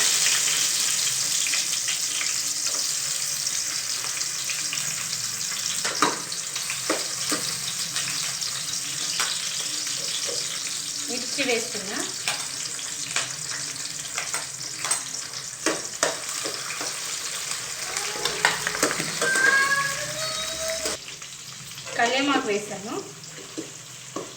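Mustard seeds, cumin and onions frying in hot oil in a pan, a continuous crackling sizzle with scattered pops and stirring scrapes, with occasional voices.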